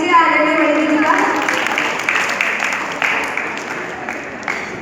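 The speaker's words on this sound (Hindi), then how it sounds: "तालियों से स्वागत कीजिए आदरणीय बड़ी दीदी का।" Audience at a Jain initiation ceremony applauding to welcome a respected elder, a dense burst of clapping that starts loud and gradually thins and fades, with some talk mixed in.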